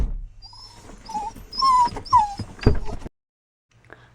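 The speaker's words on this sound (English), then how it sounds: "Dogs." Dogs whimper and yip close by in a series of high, wavering whines and short squeals, with a louder burst near the end before a pause and a faint final whine.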